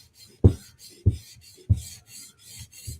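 Steel blade strokes across a whetstone in a slow, even rhythm, about six gritty scraping passes, each starting with a firm rasp, close and clear with no talking.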